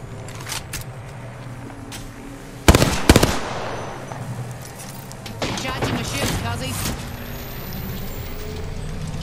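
A loud burst of rapid gunshots cracks out in an Apex Legends match, followed by scattered quieter shots and game effects, with players talking throughout.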